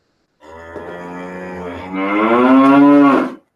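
A single cow gives one long, loud moo close by, swelling in strength and rising in pitch toward the end before cutting off, with nothing else heard around it.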